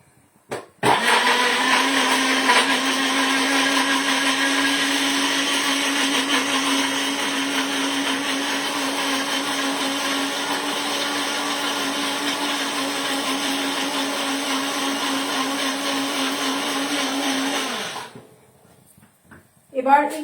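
A blender grinds paneer into a paste, its motor whirring loud and steady for about seventeen seconds before spinning down and stopping, followed by a brief knock at the end.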